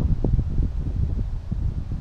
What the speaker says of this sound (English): this wind has really ripped up